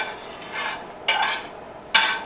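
Mushrooms being stirred into a vegan Hawaiian BBQ sauce of Worcestershire, shoyu, dark beer and broth, giving three soft scraping, stirring sweeps against the pan, the last two louder and closer, with no talk.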